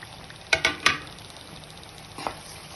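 Short scraping stirs against a pan as pointed gourd fries over a low sizzle, three quick strokes close together, then a pause and two more.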